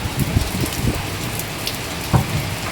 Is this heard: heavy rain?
yes